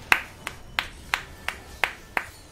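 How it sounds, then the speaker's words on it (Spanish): Slow, evenly spaced hand claps, about eight in a row, close by and crisp, like one or two people clapping in rhythm, at a League of Legends esports match broadcast. "Un aplauso para Tomo"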